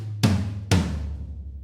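Two separate drum tom hits played back from a recording session, panned one to the left and one to the right, each a loud, deep thump with a short ring that decays, alone with no talking.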